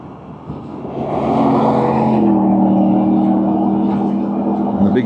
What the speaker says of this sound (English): And the big Chev got it wound up